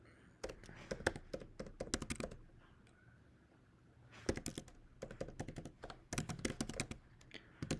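Someone types on a computer keyboard in quick clattering bursts of keystrokes, close up, separated by short quiet pauses.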